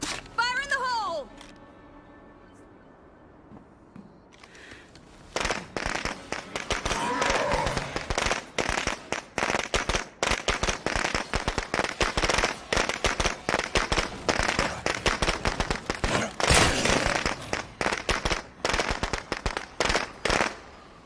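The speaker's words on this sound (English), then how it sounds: "It should have just been the firecrackers muffling the sound." Firecrackers in the zombie game State of Decay 2 set off a long, dense string of sharp cracks and pops after a quieter opening with whistling tones. The bursts crackle continuously and loudly in rapid, irregular succession for most of the stretch.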